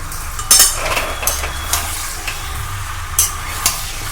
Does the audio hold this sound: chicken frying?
yes